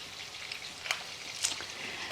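Pork chops fry in a pan as a soft, steady crackling sizzle, with a few sharper pops rising above the quiet hiss.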